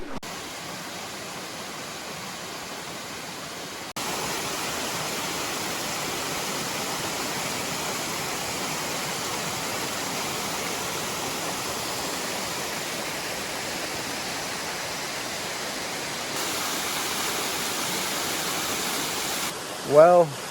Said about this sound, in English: That was a really cool little waterfall, just kind of in the middle of the woods here on this tiny little creek